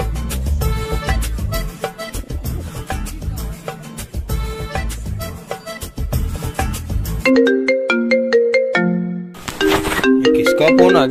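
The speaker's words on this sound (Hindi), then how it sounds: "किसका फोन आ गया?" A mobile phone ringtone plays loudly and close, a repeating electronic melody with a busier musical stretch first and then clear, simple tone phrases toward the end, with no talking over it.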